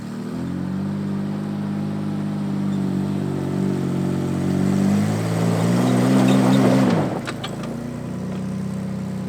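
A Barbie Jeep fitted with a dirtbike motor strains up a steep, loose hill, the engine droning loudly and steadily before it cuts off abruptly, leaving a few clicks and a quieter idle.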